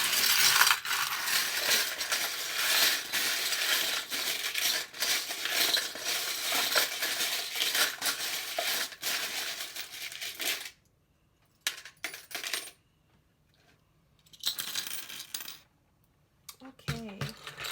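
Small metal charms cast onto a table for a tarot reading, a dense run of clinking and jingling that thins into a few scattered clinks, with quiet gaps between.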